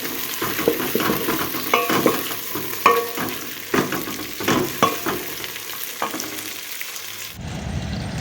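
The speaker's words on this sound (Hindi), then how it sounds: "अब मैं इसमें डाल दूँगी भिंडी" Okra sizzles and fries in a pan with browned cumin seeds, with steady hissing and repeated stirring scrapes over several seconds, close and alone, ending in a brief lower rumble.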